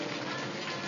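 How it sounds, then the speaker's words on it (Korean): Steady rain pattering outside on a morning, a dense even hiss of drops on surfaces that holds at the same loudness throughout, with no voices. "빗소리가 참 좋은 아침입니다"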